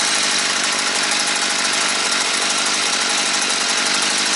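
A Stihl FS 55 petrol brush cutter, in for carburetor replacement, runs its small two-stroke engine at a steady high rev for the whole stretch. The loud, close whine is continuous and no one speaks.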